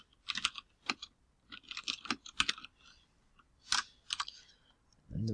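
Typing on a computer keyboard, close and distinct: short bursts of rapid key clicks separated by brief pauses, ending with a soft low rustle.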